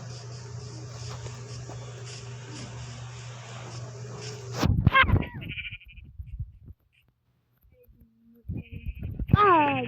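A steady hum gives way to several sheep bleats in Minecraft, short wavering cries with brief silences between them, fairly close.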